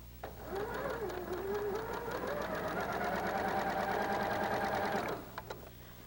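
Sewing machine chain-piecing quilt pieces, a single continuous run of rapid needle strokes whose motor pitch climbs and then holds steady for about five seconds before stopping, with a few light clicks after.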